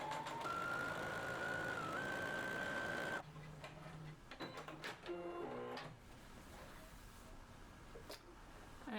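A sewing machine running a line of top stitching across a throw pillow panel, a steady rising motor whir for about three seconds, then it stops and gives way to faint clicks and handling noises.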